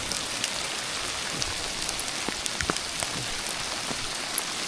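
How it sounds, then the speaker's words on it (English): Hail falling on a Colorado mountain trail, a dense steady patter of small ice pellets striking the ground and surroundings, with sharper individual ticks scattered through the continuous rain-like hiss. "I thought it was rain. It's actually hail."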